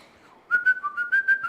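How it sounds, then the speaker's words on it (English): A person whistles a short tune of sustained and stepping notes, starting after a brief quiet lead-in, moderately loud and close with no other sounds. "They would have loved my whistling too."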